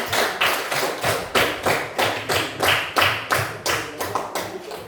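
Students in a classroom clap together in a steady rhythmic pattern of loud, close claps lasting several seconds, with no voices over it.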